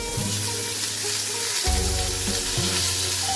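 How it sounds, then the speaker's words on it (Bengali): Mango pieces frying in hot mustard oil with chilli for mango chutney, a loud, steady, close sizzle that runs without a break, with occasional stirring. "আমটাকে একটু ভেজে নিতে হবে"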